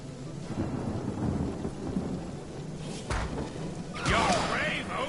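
Heavy rain pours in a fantasy role-playing game, a steady dense wash with a rumble of thunder and swelling gusts toward the end, and a voice briefly heard beneath it.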